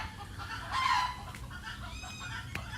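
Chickens clucking in a noisy outdoor setting, with a louder squawk near the middle and scattered short calls over steady low background rumble.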